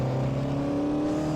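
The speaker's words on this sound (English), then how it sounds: "one of my favourite things about this car in Assetto Corsa is the intake noise" Lotus 49 Formula 1 car with a Cosworth DFV engine in the Assetto Corsa racing game, its intake noise at full throttle. A steady, loud, close engine drone with strong harmonic tones holds throughout the short stretch.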